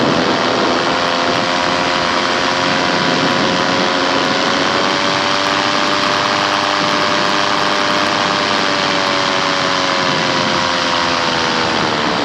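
A paramotor engine runs in flight with a loud, continuous propeller drone, its pitch shifting slightly as the throttle changes. No voices are heard.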